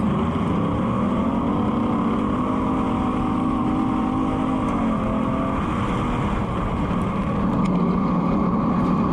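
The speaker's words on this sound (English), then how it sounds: "car definitely sounds funky. Straight up funky" An American Stocks race car engine idles with a rough, uneven drone, running poorly, low and continuous with slight wavering in pitch throughout.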